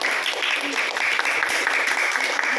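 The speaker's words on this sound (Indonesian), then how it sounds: "tepuk tangan dulu untuk Talita" A class applauds a student, brisk dense clapping from many hands, loud and continuous in a classroom.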